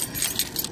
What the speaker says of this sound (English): I forgot my keys, to bring my keys out of my purse